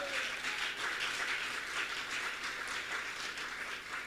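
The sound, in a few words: congregation applauding in church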